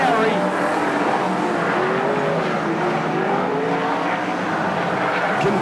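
Sprint cars race around the dirt speedway at Ruapuna on the final lap, engines roaring loud and continuous with shifting pitch as the field circulates, a commentator talking over the din.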